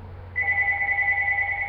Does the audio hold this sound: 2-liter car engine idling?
no